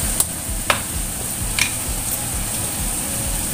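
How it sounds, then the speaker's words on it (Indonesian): A chicken, potato and carrot stew being stirred in a pan, with a continuous soft sizzle and a few sharp utensil clicks against the pan. "Aduk-aduk terlebih dahulu."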